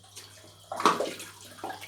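A little water is poured into a ridged shaving bowl during a wet shave with shaving cream. It makes a brief, close trickling splash that swells in the middle, then a smaller splash follows.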